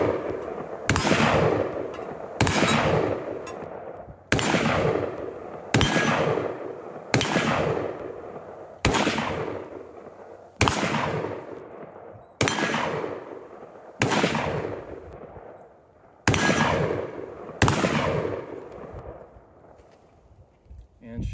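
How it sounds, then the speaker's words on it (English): Rifle shots from an ATI Galeo fired at downrange targets outdoors, about eleven loud sharp cracks spaced roughly two seconds apart, each with a trailing echo. "Going to go ahead and pop a few shots off."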